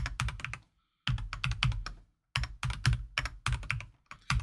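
Fast typing on a computer keyboard during an Excel speed challenge, with dense clusters of crisp key clicks arriving in quick bursts and separated by brief pauses, close and alone.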